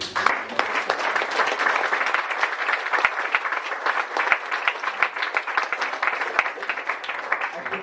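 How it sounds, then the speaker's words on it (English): An audience at a JavaScript meetup talk claps steadily throughout, a moderately loud, even patter of many hands with sharp individual claps standing out. "you can clap, we'll have synchronicity"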